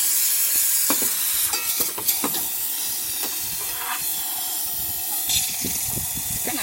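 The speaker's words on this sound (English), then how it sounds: "And now for the steamer." Quick Mill espresso machine steam wand letting out a steady, loud hiss from start to finish, with faint clicks and knocks underneath and no talking.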